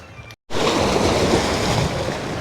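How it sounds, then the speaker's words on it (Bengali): Loud, continuous roar of surf and crashing waves at Red Beach, Santorini, fills the scene after a brief cut, broadband and close with wind noise. "তো সমুদ্রের একদম কাছে রয়েছি"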